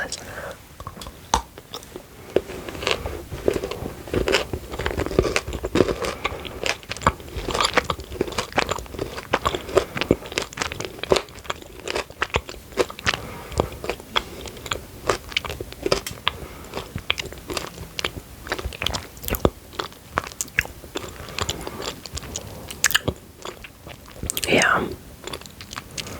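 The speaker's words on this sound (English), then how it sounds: "it's like the milky chocolate with like crispy, crunchy bits in it that you can see" Milk chocolate with crispy, crunchy bits is bitten and chewed close to the mic, with a steady stream of sharp crackly crunches and soft mouth sounds, and quiet whispered talk at times.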